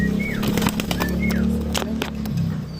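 Pigeons in a Filipino loft, cooing and fluttering against a steady low hum, with several sharp wingbeat-like bursts and brief whistled chirps scattered through, fairly close and continuous.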